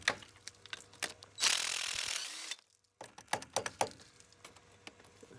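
Hand wrench and socket working a bolt loose while stripping down a classic Italian vehicle, heard as a run of sharp ratcheting clicks in bursts, with a denser hiss of activity in the middle and more scattered clicks after a short pause.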